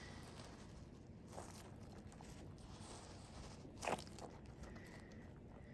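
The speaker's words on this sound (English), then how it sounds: "like this one you get the crunchy noise, but it's like a soft squish still" A sugar-crystal-coated squishy toy is squeezed close up, giving a faint continuous soft crunchy rustle with one brief louder crackling squeeze midway, no voices.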